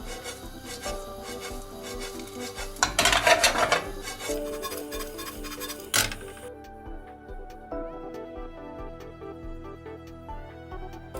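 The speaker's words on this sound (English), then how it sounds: "Add sesame, mix the ingredients over the heat and heat a little." Sesame and energy bar ingredients are stirred in a pan over heat, a utensil scraping and rasping against the pan with a louder burst of rubbing, a sharp knock, then lighter scraping over soft background music.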